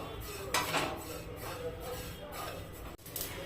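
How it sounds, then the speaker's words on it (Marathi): Sesame seeds dry-roasting in a pan over low heat give soft scraping and light metallic clinks of a stirring utensil against cookware, steady and close, with no voices. "आता ही तीळ आपल्याला असं मस्त मंद आचेवर भाजून घ्यायची आहे।"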